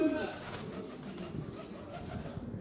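Pigeons cooing on a balcony, soft low throaty coos repeating close by under a quiet background.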